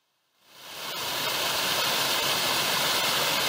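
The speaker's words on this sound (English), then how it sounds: "Beautiful waterfall." Leggett Branch Falls on the Cumberland Trail's Rock Creek section, its steady broadband rush of falling water swelling up from near silence to a loud, constant roar close by.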